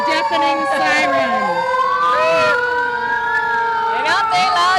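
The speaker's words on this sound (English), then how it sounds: "And the crowd loves a deafening siren." A deafening fire truck siren wails and rises close by during a town booster days parade in Hudson, with a second siren layered over it and voices faintly beneath.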